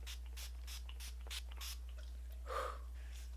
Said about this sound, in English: she just said setting spray, so I'm gonna get some setting spray